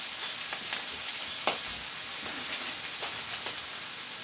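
Angel hair pasta in a hot pan over high heat, a steady close sizzle like rain on a surface, marked by a few sharp crackling pops.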